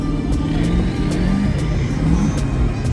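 A turbocharged V8 Chevrolet Camaro accelerates hard on a race track, giving a loud continuous engine roar with a low rumble throughout and no talk.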